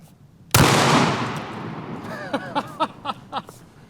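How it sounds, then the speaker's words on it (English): A Mossberg HS12 over-under shotgun fires a single slug outdoors, one sharp loud blast followed by a long rolling echo and a string of fading reflections. "I want to try a shotgun slug and see if we can shoot it out of the air"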